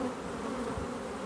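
Honey bees buzz at an open hive during an inspection, a dense, steady hum from many insects close by, with no voices.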